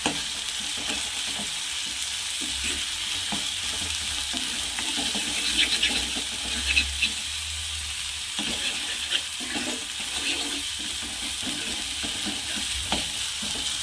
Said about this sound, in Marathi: आता आपण यामध्ये आपण हे वाटण टाकू छान असं मिक्स करून घ्यायचं